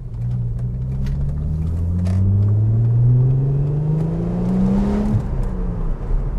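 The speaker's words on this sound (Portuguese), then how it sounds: "E esse ronco do V6," An Audi S4 B5 V6 fitted with a slightly different exhaust revs up in a long, steady climb, its rumbling growl rising in pitch before dropping off abruptly near the end, loud and close with no talking.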